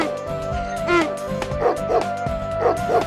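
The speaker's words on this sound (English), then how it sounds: "The donkey brayed, the dog barked" In a children's storybook soundtrack, a dog gives a series of sharp barks and yips, about five in a loose rhythm, loud and close over background music.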